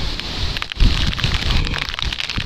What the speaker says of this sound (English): Oh no, it's raining again.